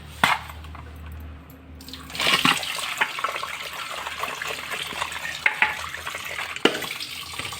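Water runs from a tap while mackerel is washed for frying. The flow is a steady, close splashing rush, broken by a few sharp knocks and clatters.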